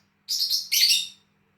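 Birds chirping nearby outdoors: a single quick run of bright, high tweets lasting about a second, alone against near silence.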